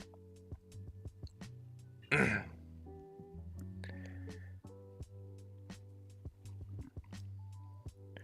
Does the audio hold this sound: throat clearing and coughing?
yes